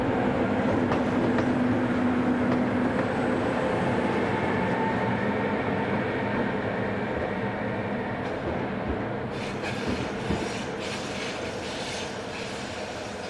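A train rumbles past on a railway line near Villach in Austria, a steady loud rolling roar with faint rhythmic clatter, swelling slightly toward the end, with no voices.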